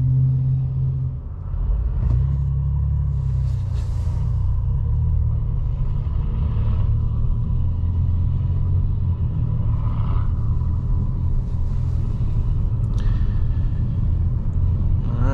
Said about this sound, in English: this is a plug-in hybrid, so it makes those cool hybrid noises